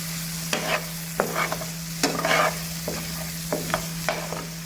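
Prawn ghee roast with curry leaves being stirred in a pan, spatula scrapes coming in repeated strokes about once a second over a constant low sizzle, no voices.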